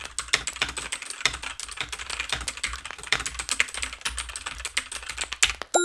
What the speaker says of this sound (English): You just typed all of that out.